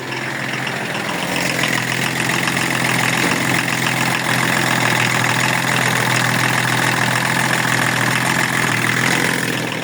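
An engine idling steadily after being started, exhaust no longer smoking, a loud, even, close running drone with a constant rumble that holds without change from start to finish.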